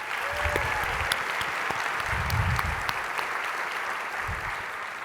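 Conference audience applauding award winners in a hall: steady, moderately loud clapping that fills the whole stretch, with a few faint voices underneath.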